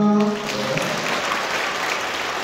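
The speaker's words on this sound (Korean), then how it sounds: "크리스티나 자매님 박수." Audience applause at a church concert in a Catholic parish, a brief burst of clapping that follows a voice and continues steadily at moderate loudness.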